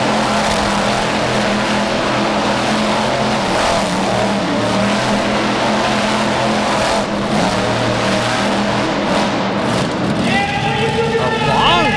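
The Nite Stalker monster truck spins a donut in an indoor arena, its engine roaring loud and steady with tire scrabbling throughout, and a short high squeal near the end.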